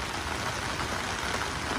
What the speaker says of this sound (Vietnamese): Đám mưa nói chung là buổi trưa nay khá lớn